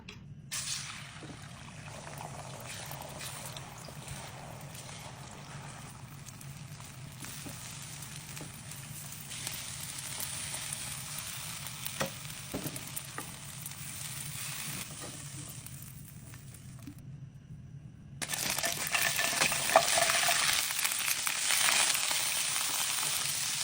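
Scrambled egg with shrimp fries in a pan, a continuous close sizzle throughout that briefly cuts out and then returns louder and brighter for the final stretch.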